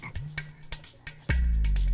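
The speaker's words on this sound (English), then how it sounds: "Hey, check out those frogs." Cartoon frogs croak in a few short, low, twangy calls, ending in a loud, sustained low croak, with no one speaking.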